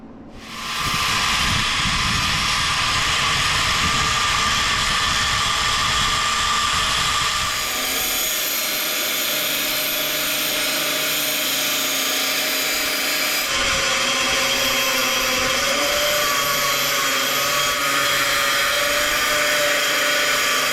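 A Metabo angle grinder cuts a 45-degree angle into a scrap offcut of steel, a loud, sustained high whine with a hissing cutting tone that shifts in pitch as the load changes, running steadily with no talking.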